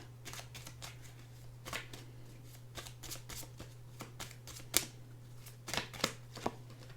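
Tarot cards being shuffled by hand, a rapid series of soft riffling snaps and flicks, close and quiet over a steady low hum, with no talking.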